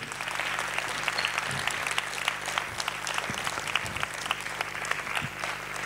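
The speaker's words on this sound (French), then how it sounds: "on va les applaudir" An audience at a screenplay synopsis pitching competition applauds the jury, with steady, dense clapping from many hands continuing throughout at moderate volume.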